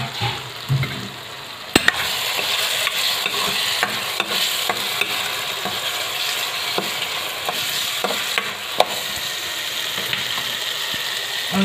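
Boiled peas being stirred and fried in oil in a pan for a potato-pea samosa filling, giving a steady sizzle broken by repeated scraping clicks of the spoon, close and fairly loud, with no talking.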